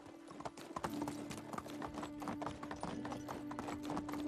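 Horse hooves clip-clop steadily at a brisk travelling pace in the medieval survival game Medieval Dynasty, a continuous rhythmic beat with no talking over it.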